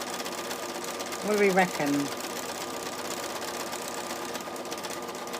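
A sewing machine runs with a steady, even mechanical hum throughout, and a voice briefly speaks over it.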